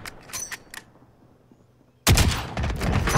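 Call of Duty gunfire crackles in a few short bursts, then falls quiet before a sudden loud, sustained barrage of rapid automatic fire and explosions erupts up close.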